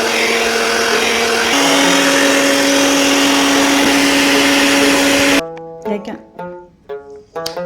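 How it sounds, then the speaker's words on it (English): An electric whisk whips heavy cream for barley ice cream with a steady, loud motor whine that shifts pitch partway through, then stops abruptly as a voice speaks over faint background sounds. "So we're now whisking the heavy whipped cream."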